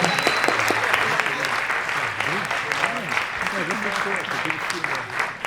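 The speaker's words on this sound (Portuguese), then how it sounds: "Palmas para Adélia Sampaio" Audience applause at a film screening and discussion event, steady and fairly loud throughout, with voices and chatter audible underneath the clapping.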